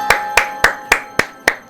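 Hands clapping six times in an even, quick rhythm, sharp and close, with nothing else around them.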